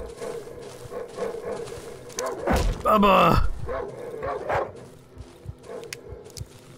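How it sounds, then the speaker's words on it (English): In the survival horror game Darkwood, dogs bark loudly and repeatedly at close range. A person shouts over the barking and talks through the rest of the scene. "The dogs followed us home!"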